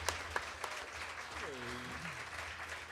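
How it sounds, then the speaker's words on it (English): Audience applause at a live Hawaiian music concert at The Ark as a band joins the stage, a steady wash of clapping throughout with a faint tonal voice-like sweep partway through. "How about a round of applause, ladies and gentlemen"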